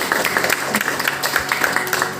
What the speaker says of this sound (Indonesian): Tepuk tangan dulu buat Bunda Munifah.